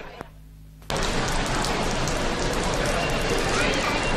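Steady rain falls and patters on surfaces, starting abruptly after a short muffled lull and continuing as a dense, even hiss close by.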